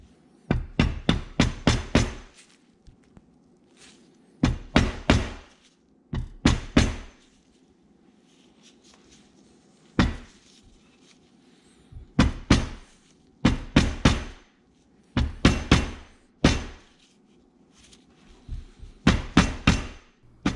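A bearing or seal is hammered into a Polaris RZR front differential. Short bursts of rapid metallic blows repeat throughout, loud and close, separated by brief pauses.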